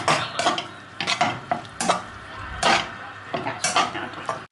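Beef is mixed with barbecue sauce and sriracha in a pan, with repeated close scraping and clacking of a utensil against the pan in uneven bursts over a light sizzle.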